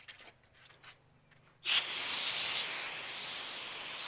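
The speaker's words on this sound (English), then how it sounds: "Rinse this mat off as best as possible." Water sprayed from a hose to rinse a mat on a pool deck after soft washing: a sudden loud, steady hiss of spray starts partway through and continues close up, after a quieter stretch of faint handling.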